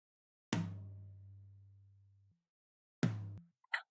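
Two MIDI tom drum hits from a virtual kit, each booming with a long, heavily boosted low body around 170 Hz. The first rings for nearly two seconds, and the second is cut short, followed by a brief click.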